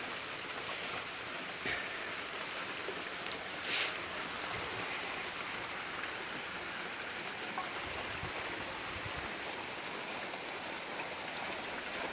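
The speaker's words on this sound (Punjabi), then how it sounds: "ਉਹ ਜੀ ਮੀਂਹ ਲੱਗਦਾ ਹੈ।" Steady rain falls over a village in Punjab, a soft, even hiss heard from a distance, with no voices.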